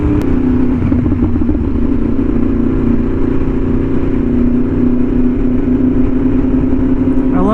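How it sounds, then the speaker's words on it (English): A BMW S1000RR sport motorcycle fitted with a dual-outlet aftermarket exhaust idles and revs nearby, a loud continuous throaty rumble with a wobbling beat and a brief rise at the end, no talking. "Like the two exhausts, when they mix together, the noise, it like starts wobbling."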